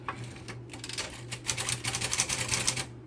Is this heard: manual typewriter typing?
yes